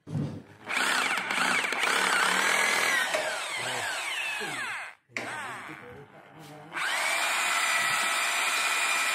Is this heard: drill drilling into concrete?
yes